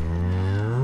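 A cow moos in the horror video game Zoonomaly, a single deep, sustained, loud moo heard close with nothing else over it.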